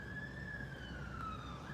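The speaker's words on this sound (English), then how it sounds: "Oh, I hear sirens too." A steady, wailing emergency vehicle siren rings out at a distance over a constant low rumble of traffic, with no voices.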